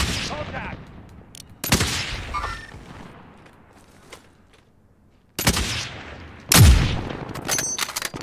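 Bursts of video game gunfire during a rooftop fight, with a sharp volley early on and louder shots after a long pause, heard alongside players talking.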